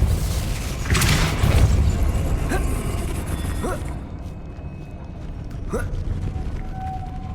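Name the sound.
Depulso spell effect in Hogwarts Legacy (video game)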